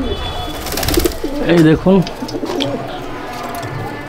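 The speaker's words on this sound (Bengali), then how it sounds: "এই হচ্ছে পায়রা" Pigeons at a loft coo in a few close, throaty rolling calls around the middle of the clip, with someone talking briefly over them.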